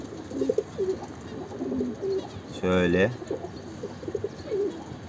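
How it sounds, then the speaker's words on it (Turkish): Pigeons on a rooftop cooing in short repeated phrases, with one louder, longer throaty coo in the middle, close by. Someone talks briefly over them. "Bakın çatıda kuş uçuruyor."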